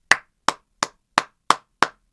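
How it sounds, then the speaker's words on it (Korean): Seven sharp hand claps from one person, evenly spaced and close, with silence between them and no talk, set in a baseball discussion show. "저는 박수칩니다."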